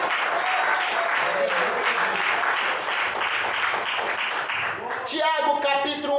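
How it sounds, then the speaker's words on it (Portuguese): A church congregation applauds steadily and fairly loudly during an evangelical sermon, the clapping sustained throughout until a voice begins speaking near the end. "Palmas para Jesus."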